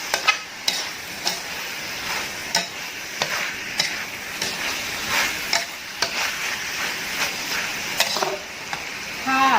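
Pork belly and long beans stir-fry with curry paste in a hot pan, a loud close sizzle punctuated by regular scraping and clanking strokes of a spatula against the pan throughout.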